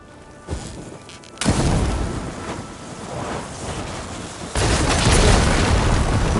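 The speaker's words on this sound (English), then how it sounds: "Hitting those blaze barrels with fire ammo should do the trick" Blaze barrels bursting after being hit with fire ammo in Horizon Forbidden West: a sharp pop followed by a rolling, rumbling roar that swells into a louder, sustained crackling blast.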